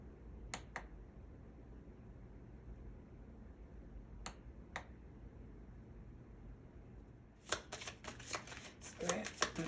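Oracle cards are shuffled quietly, with a few sharp riffle snaps early on and a busier burst of card flicking and slapping near the end, close up and faint.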